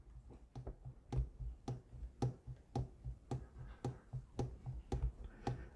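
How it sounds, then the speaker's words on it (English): A Thompson Center Compass rifle chambered in 300 Win Mag, its barrel pushed and pulled while the receiver sits loose on the lug in the stock, gives a steady run of sharp close clicks, roughly two per second. "if I pull and push, you'll actually hear it clicking in there."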